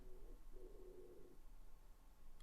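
A pigeon coos faintly in the background, two soft, low, hollow calls under quiet indoor room noise.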